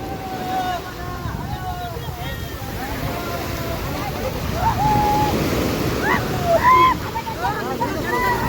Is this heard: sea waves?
yes